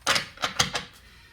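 A Rider-Waite tarot deck being shuffled by hand, heard as four quick papery riffling bursts close up, then fading to quiet.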